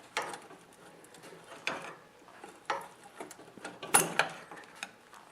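A slotted screwdriver working a fuel line clamp loose on a snowblower carburetor, with a series of faint, sharp metallic clicks and scrapes spaced irregularly.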